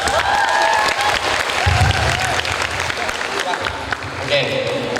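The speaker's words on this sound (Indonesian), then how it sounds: "kasih tepuk tangan dulu" Audience applauding at a general lecture at an Islamic college, steady clapping filling the room throughout, with a voice speaking over it partway.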